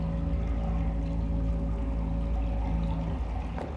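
Water running out of a wall in the sci-fi game The Invincible, a steady pouring rush with a constant low hum beneath it and no voices.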